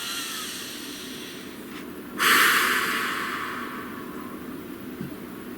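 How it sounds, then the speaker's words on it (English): A single deep breath drawn in sharply through the nose, a close hissing inhale that swells midway and slowly trails off into quiet. "Please take a nice deep breath."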